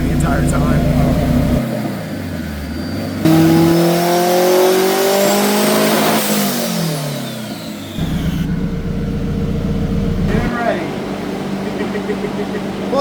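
Highly tuned Acura RSX on a dyno, engine revving hard through a pull with rising and falling pitch sweeps, loud and close, with people talking over it.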